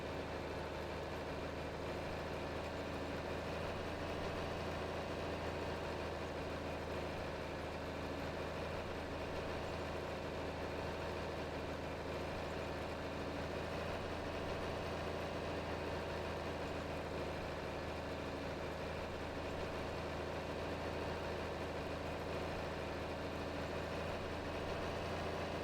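Steady diesel drone of a tractor hauling a cultimulcher in Farming Simulator 22, a constant loud low engine rumble with no pauses, continuous throughout and alone with no voices.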